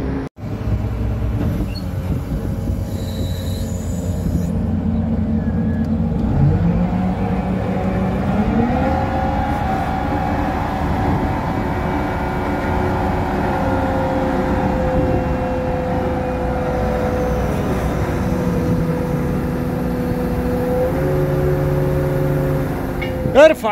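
A car engine and exhaust silencer in Kuwait, a loud steady drone that rises and shifts pitch as it revs and accelerates, with a couple of brief knocks at the start and end.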